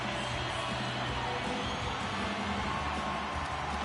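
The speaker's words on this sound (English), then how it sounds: "You can feel the energy in this crowd." Hockey arena crowd during a tied game between the Sabres and Islanders, a steady distant roar of many spectators filling the rink, faint and continuous with a broadcast commentator's voice over it.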